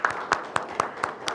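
Six evenly spaced, fairly close claps ring out at a policy forum on migrant health care in Gwangju. Each clap is sharp and separate, with a brief gap between strikes.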